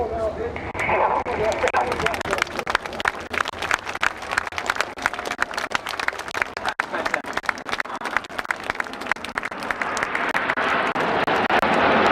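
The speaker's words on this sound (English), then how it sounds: "Let's please have a huge round of applause in Phoenix!" Crowd applause at an outdoor air show featuring an M-346 jet and the Red Arrows, a broad, steady wash of clapping under an announcer's amplified voice, swelling slightly near the end.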